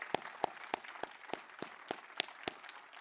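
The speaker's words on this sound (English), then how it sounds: "let's give a big round of applause to these brilliant projects and entrepreneurs around the world" Sparse, evenly spaced claps from an audience at the Ashden Awards 2021 ceremony at COP26 in Glasgow, about three per second, fairly faint and distinct rather than a full roar.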